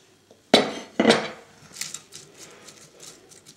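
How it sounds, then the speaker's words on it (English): Lettuce slices placed into a dish plate for a beetroot salad. Two sharp, close clatters of plate and utensil are followed by a run of lighter, quieter clinks and taps. "First I put the lettuce slices inside the dish plate."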